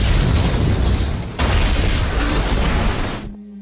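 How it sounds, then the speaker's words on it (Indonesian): A loud, roaring explosion in a film scene near a submarine: a dense, rumbling burst with a renewed surge partway through, holding heavy for about three seconds before cutting off abruptly. "namun tak lama terjadilah sebuah ledakan"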